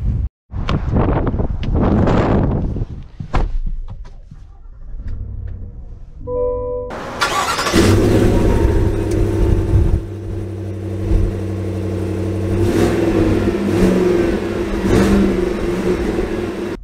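A 2022 GMC Yukon Denali XL with air suspension, heard in a few thumps and a short pause, then a sustained engine and road roar as the large SUV drives off, loud and close with wind noise.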